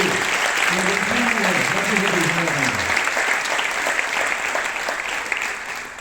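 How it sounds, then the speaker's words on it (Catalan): Audience at a graduation ceremony for the 2017–2020 class breaks into loud, sustained applause, a dense wash of clapping that runs steadily throughout, with a voice or two murmuring faintly beneath it. "Un fort aplaudiment per l'Isabel, sisplau."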